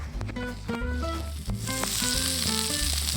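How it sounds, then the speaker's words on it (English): Cooked pancetta sizzles steadily in a hot pan with a bright, constant hiss that grows fuller midway, heard alone over a melodic tune with no voices. "you get your sizzle"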